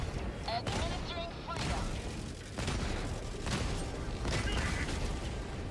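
An airstrike in a shooter video game sets off a dense rumbling barrage of explosions and gunfire, with several heavier bursts rolling through a constant roar.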